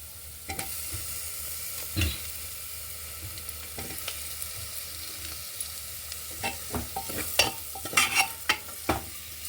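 Tomatoes and chili powder going into a hot pan for a potato-tomato curry, with a soft continuous sizzle and scattered scraping stir clicks building toward the end.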